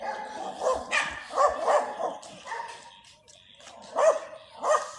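Several dogs bark repeatedly in short bursts during a walk along a city street, fairly close, with a few yips between barks and quiet gaps.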